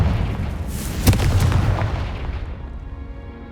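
A Confringo blasting spell in Hogwarts Legacy detonates with a loud, close boom, cracking sharply near the one-second mark and rumbling away over the next couple of seconds into fading quiet.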